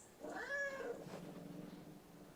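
Cat meows played back from an Alexa smart speaker's Box of Cats skill: a single drawn-out, rising-then-falling meow, fairly clear and close, followed by quieter room noise with no talk.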